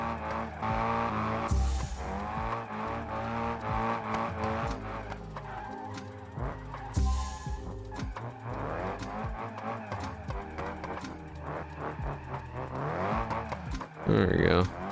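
A drift car's engine in a video game revs and shifts pitch with brief tire squeals. Sustained, moderately loud engine tones rise and fall under continuous talking.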